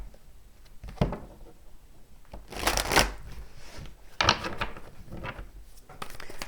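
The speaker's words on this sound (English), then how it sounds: "Get a good shuffle here." Tarot cards are shuffled close up, giving soft papery riffles and a few sharper bursts of card noise spread over several seconds, fairly quiet and with no talking.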